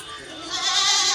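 A goat bleats on a goat farm, one wavering, nasal cry lasting about a second, close and clear against faint background noise.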